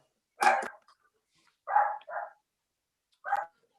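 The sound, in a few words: dog barking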